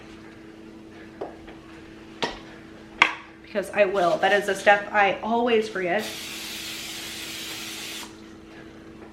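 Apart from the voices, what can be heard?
spraying a bread pan with cooking spray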